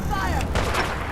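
Gunfire in the video game Fallout 4 sounds as a loud, close burst of rapid shots lasting about a second, with a voice mixed in beneath.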